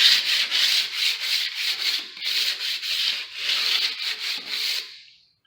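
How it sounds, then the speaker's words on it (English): Hand-sanding hardwood stairs with 220-grit sandpaper: steady back-and-forth scratchy rubbing strokes in quick regular rhythm, close and fairly loud, with no talking, fading out at the end. "And I'm actually sanding"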